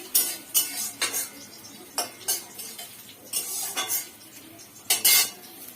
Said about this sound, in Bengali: এরপর এটাকে তেলের মধ্যে কড়াইয়ের মধ্যে দিয়ে দেবো তো দেখো ভালো করে ফ্রাই হচ্ছে